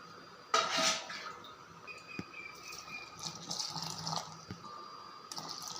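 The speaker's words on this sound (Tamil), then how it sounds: "இப்போ இதில் நான் 2 இது தண்ணி ஊற்றிக்கிறேன்." A short splash of water poured into a bowl of raw rice flour, followed by quieter clinks and small scraping sounds of a utensil against the dish.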